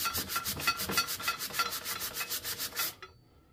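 A metal turbo manifold flange on a motorcycle engine build is rubbed back and forth on sandpaper in quick, even rasping strokes, close and clear, then stops abruptly near the end.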